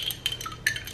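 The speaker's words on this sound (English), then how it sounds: "I drink it in this little cute jar, and I mix it with a straw" A straw stirs a drink in a small glass jar, making quick, light clinks and taps in a short burst close by, with no voices.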